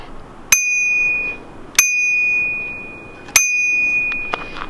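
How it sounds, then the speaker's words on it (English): A bicycle bell strikes three times at roughly even intervals, each a sharp metallic ding ringing on with a sustained tone, close and clear, followed by a few faint clicks. "So that's a bell off his bike"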